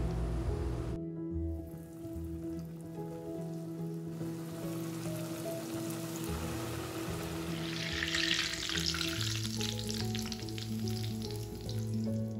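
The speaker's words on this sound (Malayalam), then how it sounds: "ഇതുപോലെ തന്നെ നമുക്ക് ബാക്കിയുള്ള റോളും ഫ്രൈ ചെയ്തെടുക്കാം" Chicken bread rolls deep-fry in hot oil with a soft, continuous bubbling sizzle that swells louder and brighter in the latter part, steady and fairly quiet with no talk.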